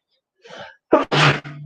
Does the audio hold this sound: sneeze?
yes